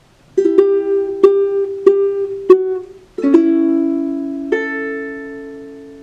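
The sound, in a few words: ukulele chords strummed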